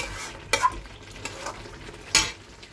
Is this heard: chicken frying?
yes